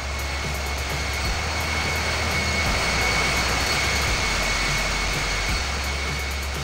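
Simulated airliner taxiing to parking at Paris Charles de Gaulle in the Infinite Flight game, a steady loud jet engine drone with a high whine held throughout, alone with no talk.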